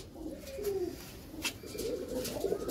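Pigeons kept by a village pigeon fancier coo in low, soft rolling phrases, close by, with faint outdoor background and a brief sharper sound midway.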